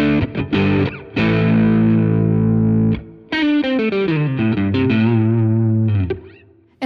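A Fender H.E.R. Stratocaster signature electric guitar with single-coil pickups, played through gain and distortion. Sustained chords ring out loud and up close, then a run of picked notes follows and fades at the end.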